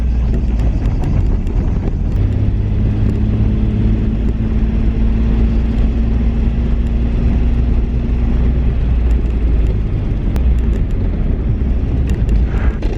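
A car that has not been driven in a long time sets off for a short, gentle drive, giving a loud, steady low engine rumble with wind buffeting and no talk.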